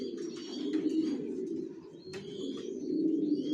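Soft, low cooing of racing pigeons continues steadily throughout, with a few faint chirps and clicks above it.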